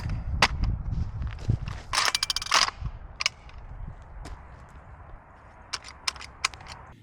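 A 12 gauge shotgun fitted with an FRT trigger fires game load in quick bursts outdoors, sharp cracks clustered in rapid strings with gaps between, moderately loud against a quiet background.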